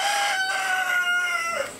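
Chickens from a backyard flock of about thirty hens in West Indianapolis, with a rooster giving a loud, close, drawn-out crow that rings out clearly with no talking.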